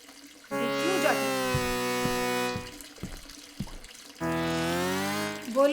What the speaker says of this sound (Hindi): और ये मेरे बाथरूम से पानी की आवाज?